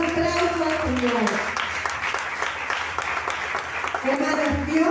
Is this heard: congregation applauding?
yes